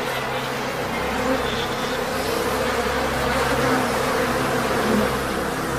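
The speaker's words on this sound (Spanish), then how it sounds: "si te atacan las abejas asesinas, las consecuencias pueden ser trágicas" Africanized killer bees swarm in a dense, steady buzz, loud and continuous throughout with no talking over it.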